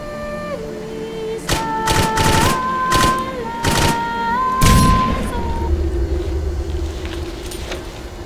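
Gunfire in the video game Clive Barker's Jericho: several sharp, loud shots in an uneven burst, heard over a sustained tonal musical backdrop and a low rumble.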